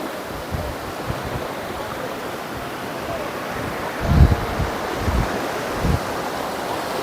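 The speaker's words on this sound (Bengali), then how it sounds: "ঢেউটা খুব সুন্দর আসছে" Sea waves wash onto a sandy beach, a steady surf hiss with a few soft low surges as waves break, heard from near the water with some wind on the microphone.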